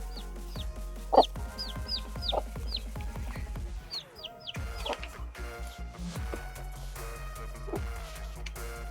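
Chickens and a rooster on a farm in the Kalimpong area of North Bengal keep up a busy chorus of clucks and squawks, several birds calling close by with overlapping bursts and chirps throughout.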